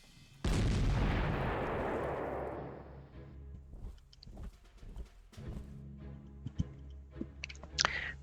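An artillery gun in a WWII strategy game fires one heavy, close boom whose rumble decays over a few seconds, followed by quieter scattered clicks and small sounds.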